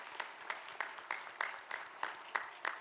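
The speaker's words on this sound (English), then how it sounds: "Let's give a big round of applause to the faculty and staff" Audience at a university health sciences commencement claps for faculty and staff, heard as a sparse, rhythmic series of distinct hand claps at moderate distance, fairly faint.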